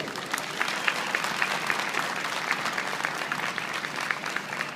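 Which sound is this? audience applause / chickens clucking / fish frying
audience applause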